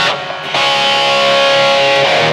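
Electric guitar through a BOSS eBand JS-10 amp without a clean boost, a loud sustained crunchy chord ringing out after a brief pick attack, alone.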